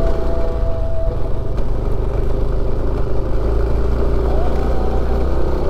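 A motorcycle ridden on a rough, bumpy road from Depok to Dieng via Bandar, its engine droning steadily and loudly close by with wind rush and occasional jolts, under the rider's talk.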